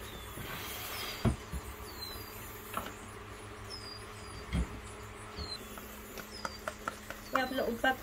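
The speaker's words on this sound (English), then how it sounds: "There's loads of crickets in here." Faint, high chirping and scratchy insect rustling of crickets inside a container, with a few sharp knocks and brief bumps.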